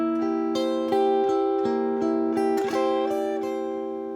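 Ukulele picking a rock-blues melody passage, bars three into four: clear plucked notes in a steady rhythm, close and alone with no voices.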